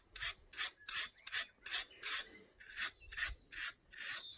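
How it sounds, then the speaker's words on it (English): A body brush sweeps over a pony's coat in about ten quick, even strokes, each a close bristly rasp with short gaps between. "We then have a body brush, which you would use, which is a bit of a clean out, which you would use with the metal curry comb."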